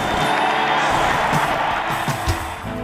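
A large patriotic crowd cheers and whoops for the President at an Independence Day gathering, a dense, steady roar of many voices that swells slightly and carries on throughout.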